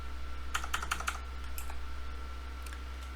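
Keys clack on a computer keyboard as a tar command is typed into a Debian Linux terminal, a quick burst of several strokes followed by a few scattered taps, close and clear over a steady low hum.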